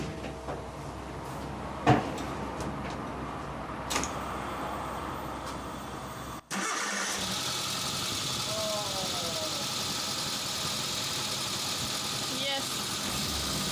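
A Suzuki Samurai engine cranks and catches. A sudden steady idle takes over midway and runs on at an even, moderately loud level in a workshop setting. Earlier, knocks and faint handling noises are heard, and a voice speaks briefly.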